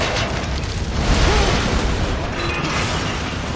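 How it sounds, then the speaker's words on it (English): Grenade explosions in the video game Dead Rising 3: a dense, continuous roar of booming blasts and crashing debris, loud and sustained with no pause, close and heavy throughout. "We can try throwing grenades!"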